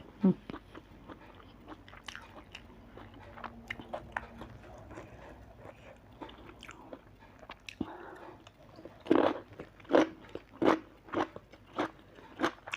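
Close, crisp crunching and chewing of crispy fried fish eaten with sticky rice, a quiet run of bites that grows into loud, rhythmic crunches near the end.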